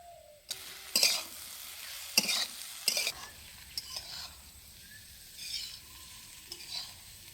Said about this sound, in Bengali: আমি চিংড়ি মাছটা দিয়ে দিচ্ছি